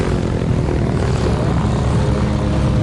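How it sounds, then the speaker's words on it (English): A loud propeller airplane engine drones steadily close by, a constant rumbling roar throughout. "That's a Texas Jet airplane"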